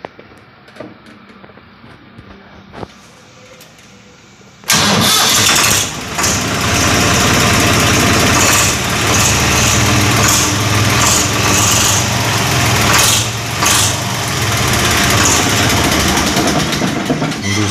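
A Swaraj 969 tractor engine fitted with its original silencer cranks and starts after a few quiet knocks, then settles into a loud, rough, close idle with a throaty rumble and occasional revs, with no talking.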